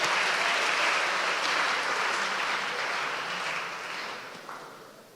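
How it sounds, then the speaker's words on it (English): A round of applause at a school family gathering, with dense clapping from a large audience that holds steady and then gradually thins and fades over the last couple of seconds. "another big round of applause"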